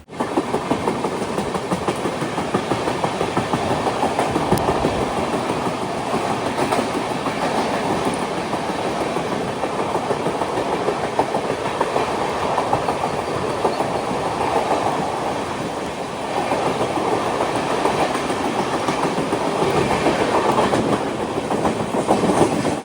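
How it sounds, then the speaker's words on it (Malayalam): A train departing Dadar railway station rumbles steadily along the tracks with a continuous, loud rolling clatter and no voices. "ട്രെയിൻ ഇപ്പോൾ ദാദർ റെയിൽവേ സ്റ്റേഷൻ ഇതാ എടുത്തു."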